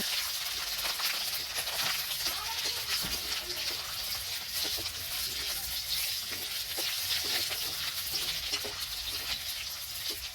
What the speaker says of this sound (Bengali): আগে আমি তেলের মধ্যে রসুন আর কাঁচামরিচ শুকনো লঙ্কা এগুলি একসাথে ভেজে নিতেছি